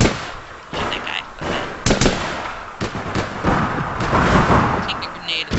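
Gunfire in the online game APB, loud rapid shots and bangs that come in irregular bursts and stay close throughout, with a voice talking over parts of it.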